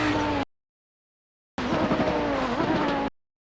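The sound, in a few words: Audi 90 GTO race car braking and downshifting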